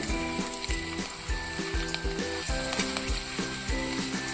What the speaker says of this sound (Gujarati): સૌપ્રથમ આપણે પહેલાં સાબુદાણાના પાપડ તળી લઈશું.